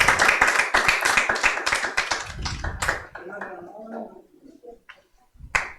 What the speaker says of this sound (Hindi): हम सब अनुमोदन करते हुए तालियों से उनका सम्मान व्यक्त करते हैं